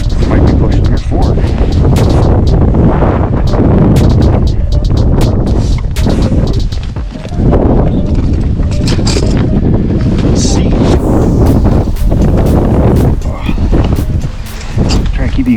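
Strong wind gusting across a lake during fall bass fishing from a boat, loud buffeting rumble against the microphone with sharp bumps and knocks throughout, and people talking beneath it.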